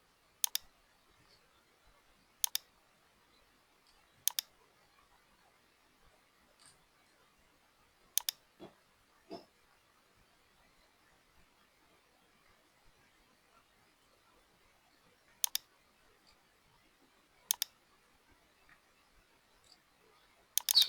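A computer mouse gives isolated sharp clicks, about eight spread irregularly over twenty seconds, while drawing in CAD software, close by in an otherwise quiet room.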